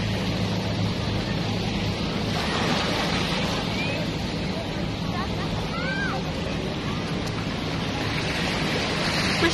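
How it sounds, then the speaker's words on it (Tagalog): Rough surf rolls in continuously at Boslon Island beach in the Britania Group of Islands, Surigao del Sur, a steady broadband wash of breaking waves mixed with gusty wind noise on the microphone. "Masyadong maalon kasi ngayon."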